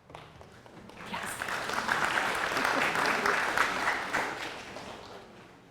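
Audience applause at a San Francisco Unified School District special education meeting swells in after a brief pause, holds as a dense crowd of clapping, then slowly tapers off.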